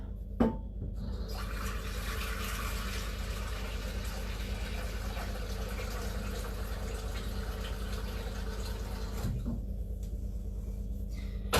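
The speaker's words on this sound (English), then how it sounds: "I've got quite a big pot, and let's fill it up." Water runs into a large cooking pot from a tap, a steady hissing fill lasting around nine seconds between faint clunks of the pot being handled, with no one talking.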